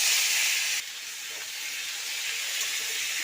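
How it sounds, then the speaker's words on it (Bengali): Potatoes fry in hot mustard oil in a wok, giving a steady, close hiss of sizzling oil that starts loud, drops slightly after a moment and then continues evenly with no talking. "আমি আলুটাকে ভেজে নেব"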